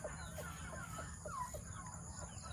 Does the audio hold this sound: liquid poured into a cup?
no